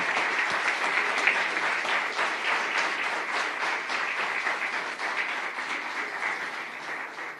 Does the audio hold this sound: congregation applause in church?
yes